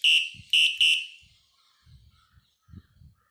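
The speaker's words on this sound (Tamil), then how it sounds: "இது பேர் தான் சைக்கிள் லைட் பெல். செம்ம சவுண்டு கேட்கும் பாருங்க கைஸ்." Three loud, shrill electronic beeps from a cycle light bell sound in quick succession close by, followed by soft low handling noises and faint fumbling.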